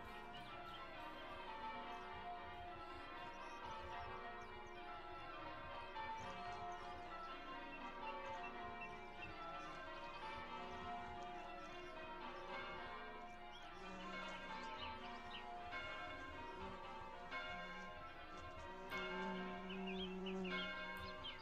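A church bell tolls in a song, with resonant repeated strokes sounding within the layered music, and birdsong and piano also present.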